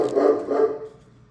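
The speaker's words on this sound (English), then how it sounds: "Dogs being dogs." A dog barks twice in quick succession nearby, the two rough barks close together and fading into a quiet room.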